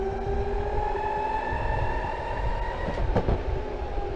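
An electric skateboard on 105 mm Cloudwheels with 40T pulleys climbs a hill at full throttle, giving a steady, loud motor whine with layered tonal harmonics over road rumble and a few brief clacks near the end.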